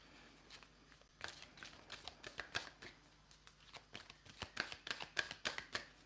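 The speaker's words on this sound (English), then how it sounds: "I'm gonna start shuffling to just, put some cards out on the table" Tarot cards shuffled by hand at a table, a steady series of soft riffling flicks and slaps that grows busier and louder partway through, heard close with no talking.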